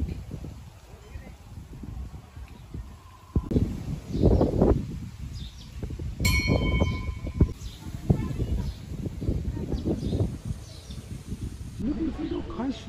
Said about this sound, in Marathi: म्हणजे फार वाऱ्याचा आवाज येतोय, पानांचा आवाज येतोय, पक्ष्यांचा आवाज येतोय.